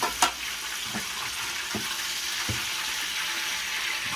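Breaded pork schnitzel fries in a pan with a continuous bright sizzle, close and steady, broken by a few soft knocks from turning or handling in the pan.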